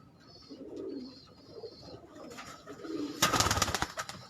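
Breeder pigeons in a loft setup coo softly in short repeated phrases, then a burst of louder flapping wings and shuffling rises near the end.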